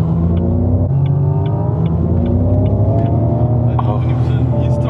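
A Xiaomi SU7 Ultra electric car plays its virtual engine sound while accelerating, a loud rising drone of climbing tones with a steady rumble beneath and faint clicks.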